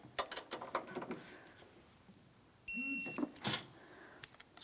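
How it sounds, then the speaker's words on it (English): A torque wrench ratchets on 13mm bolts of a front strut assembly on a 2007-2014 Ford Edge, with quick clicking bursts followed by a short electronic beep signalling the set torque. "I'm using a 13mm on my torque wrench here."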